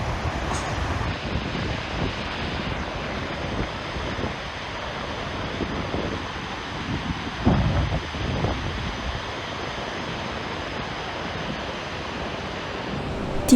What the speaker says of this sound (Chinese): 丁洋迪瀑布，是冰岛西峡湾地区规模最大的瀑布群